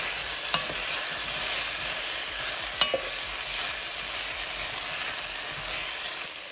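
Potatoes dropped into a pot of simmering tomatoes for caldo de queso: a soft, steady bubbling sizzle with a few sharp clicks and knocks as the pieces land.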